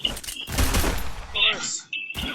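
Bursts of gunfire from the Free Fire mobile game, quick clustered shots mixed with game effects and beeps, with a person talking over them.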